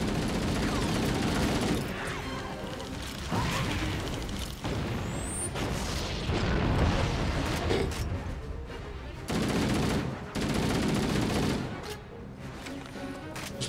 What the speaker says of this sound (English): Just throwing grenades everywhere.